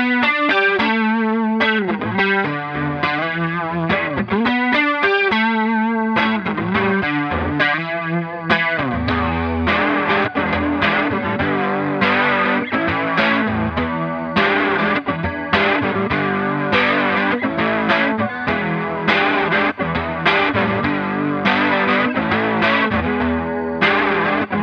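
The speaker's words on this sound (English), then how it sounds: "this is also the perfect opportunity to show how well the Blue Hippo pairs with other drive pedals," Electric guitar runs through a Way Huge Blue Hippo chorus pedal paired with a fuzz pedal, first playing clean swirling arpeggiated lines, then switching to thick, distorted, strummed chords with a wobbling chorus shimmer, loud and continuous.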